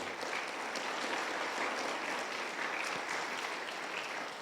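A congregation claps at a church service, giving a continuous wash of applause that stays soft and steady throughout, with no speech over it.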